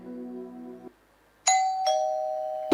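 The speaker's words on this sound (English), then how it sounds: "Doorbell rang." A doorbell chimes: a low electronic tone, a pause, then two brighter ringing notes in quick succession, clear and close.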